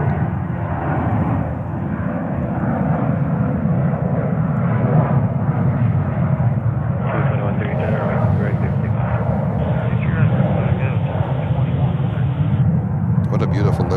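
JetBlue Airbus A321 jet airliner in special livery at JFK, a strong continuous engine roar filling the clip, with people talking over it in the latter half.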